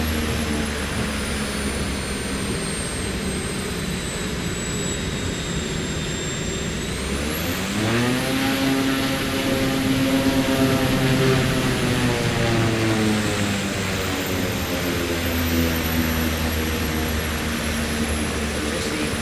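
A STOL plane flies low with full flaps in Microsoft Flight Simulator 2024, its steady engine drone loud and continuous, the pitch rising and settling partway through as the power shifts.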